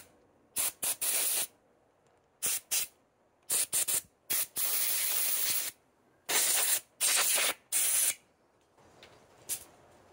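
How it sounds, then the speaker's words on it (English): An air compressor blows short bursts of air to clean the burr of a Gaggia Anima Deluxe espresso grinder. About nine sharp hissing blasts, some brief and some lasting about a second, come close and loud with quiet gaps between. "We can use our compressor too."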